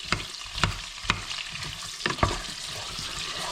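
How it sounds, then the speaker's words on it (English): Onions frying in a pan for a Christmas goose dish, a steady sizzle broken by several sharp scraping stirs of the utensil against the pan, close and fairly quiet. "I'm going to stir these around until they are nicely browning."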